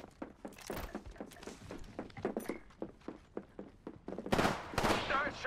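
Gunfire in an Apex Legends Arenas match, with rapid bursts of sharp shots in uneven clusters that grow denser and louder toward the end, mixed with impact thuds.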